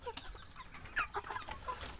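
Chickens raised on a farm cluck and chatter close by, several overlapping short calls with an occasional higher squawk, heard alone and fairly faint.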